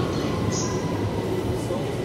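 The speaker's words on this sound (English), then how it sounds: "London Underground Victoria Line service from Walthamstow Central to Brixton" A London Underground Victoria Line train on the Walthamstow Central to Brixton service rumbles steadily and loudly from close by, a continuous low roar of wheels and motors with faint squeal.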